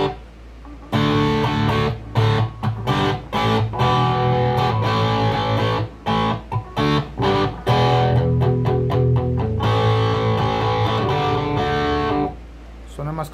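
Electric guitar played through a cheap distortion pedal for metal with the gain turned all the way down, giving a Marshall-like crunch: sustained chords and choppy stopped riffs, loud and close, with brief pauses between phrases.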